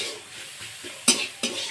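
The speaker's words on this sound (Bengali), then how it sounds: "সব মশলাগুলো এইভাবে কয়েক সেকেন্ড কষিয়ে নেওয়ার পরে" Turmeric, cumin, coriander and salt fry in a pan, making a close, crackling sizzle broken by a few quick stirring scrapes and clatters against the pan, with no talking.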